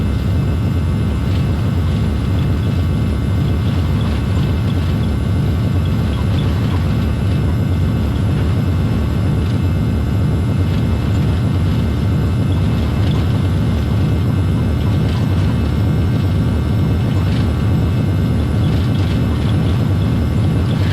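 JarDesign A320 jet engines roaring steadily on the takeoff roll in X-Plane 10, a loud continuous whine and rumble with no pauses throughout.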